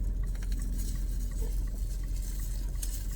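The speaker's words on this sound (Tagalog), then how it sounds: "Walang tigil ang ulan." Steady rain falls continuously outdoors, a dense even patter with a low rumbling wash underneath, holding at the same level throughout with no voices.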